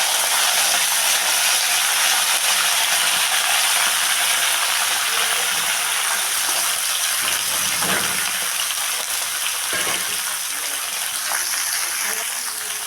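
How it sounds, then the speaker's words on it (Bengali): Vegetables for a spinach chachchari dropped into hot oil seasoned with dried red chillies and five-spice, a loud, continuous hiss and crackle with some clattering and stirring noises, heard up close. "এখন আমি সমস্ত সবজিগুলো তেলের মধ্যে দিয়ে দেব"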